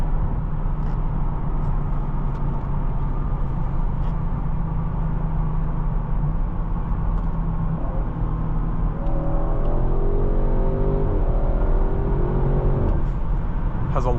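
A 2022 Audi RS 6 Avant drives on the road with a steady, loud engine drone and tire roar heard from inside the car, rising in pitch as it accelerates through gears partway through.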